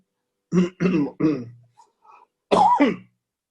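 Several throat clears and coughs from a man on a video call, a run of three close together, a short pause with faint sounds, then one more loud cough-like clearing, near and alone without talk.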